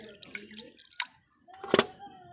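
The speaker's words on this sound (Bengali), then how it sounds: "জলে ঢেলে পরিষ্কার করে নেওয়া হচ্ছে" Salted clams are rinsed in water with soft sloshes and drips, splashing in small uneven bursts. A louder splash comes near the end, and faint voices can be heard in the background.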